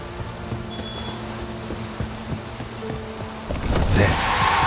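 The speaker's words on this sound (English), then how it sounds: "Looks like rain." Rain falling in the video game Witcher 3: Wild Hunt, a soft, steady patter with scattered low thuds, thickening into a louder, denser wash near the end.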